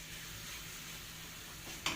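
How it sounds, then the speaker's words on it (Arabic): Breaded chicken panee sizzles steadily while being flipped and seared in a pan, a continuous soft frying hiss with a brief louder clatter near the end. "هنقلبه البانيه هنشوحه كده."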